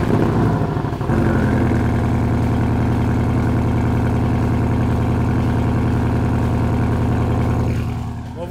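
A Porsche Cayman 718 GTS engine runs with a loud, steady, throaty drone, briefly rising in pitch near the start and dropping off slightly at the end, close to the car with no talk over it.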